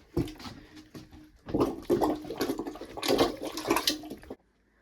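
A plunger pushes water out of a toilet bowl, making it gurgle and slosh in a few forceful surges before stopping abruptly.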